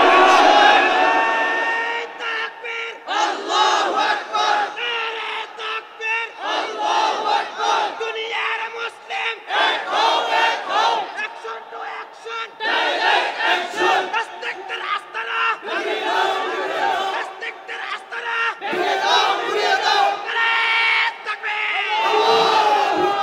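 A large crowd at a Bengali-language Islamic sermon gathering (waz) shouts the takbir response in loud, rhythmic, repeated chants, rising and falling in waves throughout.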